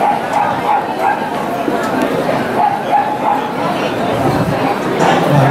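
An Akita puppy yips and barks in short, excited bursts, mixed with whimpering, while people talk over it nearby throughout, at a dog show.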